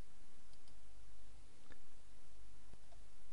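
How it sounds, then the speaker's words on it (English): A computer mouse is right-clicked, giving a couple of faint, sharp clicks spaced apart over a steady background hiss. "I do right click and copy."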